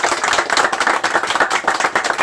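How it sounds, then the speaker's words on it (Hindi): Clapping from a group honoring the team of a Surat cloth wholesale manufacturer at an awards event, a dense steady patter of many hands lasting a couple of seconds, fairly close and loud with no talking. "तो सबके लिए एक बार बहुत जोरदार तालियां।"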